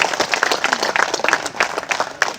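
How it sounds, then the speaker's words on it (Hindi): Applause from an audience at an outdoor Holi celebration with CRPF personnel, dense continuous clapping with irregular sharper claps standing out, fairly loud and steady throughout. "आइए तालियों के साथ स्वागत कीजिए आपके साथ में। तालियां नहीं रुकनी चाहिए"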